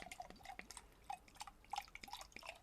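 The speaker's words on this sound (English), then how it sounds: "I'm just going to top up the water quickly" Water being topped up for painting, a run of soft, close drips and small splashes at an irregular pace, faint and alone against quiet room tone.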